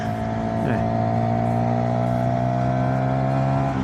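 A Voge 125R motorcycle engine hums at a steady, high pitch during a ride, with one quick dip and recovery as the revs shift, holding loud and close throughout.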